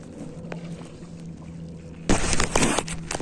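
A kayak paddle strikes lake water on Lake Washington, a loud close splash and swirl of water breaking in suddenly after a quieter stretch of wind and low hum.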